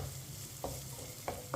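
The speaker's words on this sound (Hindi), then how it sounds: "इसे 2 मिनट के लिए चम्मच चलाते हुए भून लेंगे" Sweet vermicelli for meethi seviyan roasts in a pan over low heat, with a quiet sizzle and three light scrapes of a spoon stirring, close and brief.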